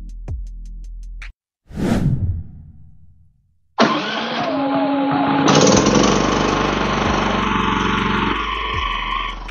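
A Philking 4200 inverter generator is started by remote: a short, strained cranking burst, a brief silence, then the engine catches and runs loud and steady close by.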